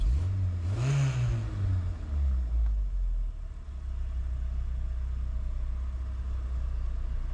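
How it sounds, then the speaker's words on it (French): Volkswagen Golf with a carbureted engine, long stored in a barn, settling to idle around 900 rpm after a brief rev, then a steady low rumble, close and continuous, with no talking. "mon ralenti se stabilise bien à chaque fois aux alentours de 850-900 tours minute"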